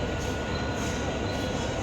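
A Mumbai suburban electric train bound for Borivali passing through a station, a loud, continuous close rumble and roar of carriages that fills the whole stretch, with no clear speech.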